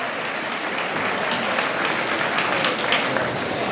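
An audience in a Chillicothe High School assembly gives the jazz band a round of applause, a loud, even roar of clapping filling the hall without pause.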